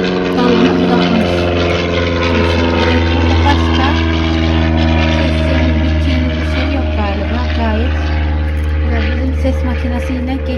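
A helicopter passes overhead outdoors in a garden, its loud, steady droning hum filling the whole stretch with little change, and faint higher warbling sounds over it.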